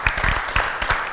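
Audience applause during a Brazilian afternoon roundtable show, a short burst of steady clapping with a few sharper claps standing out near the start and end.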